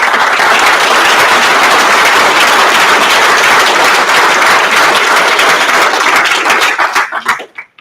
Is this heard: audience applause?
yes